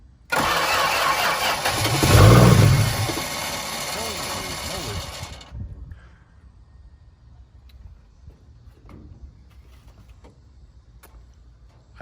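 Key start of a Plymouth Valiant rescued from a scrap yard: the starter cranks loudly for about five seconds with the engine catching in a brief surge, then cuts to near quiet with faint clicks and rustles.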